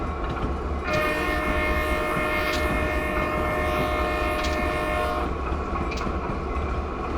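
Norfolk Southern locomotive in Train Simulator sounding its horn in several long sustained blasts over the steady rumble and clatter of the moving train, with brief bell-like pings in between.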